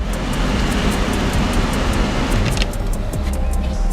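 A Mazda RX7 Type RS engine runs steadily at idle, a low continuous rumble with broadband noise and a faint regular ticking on top, no voices.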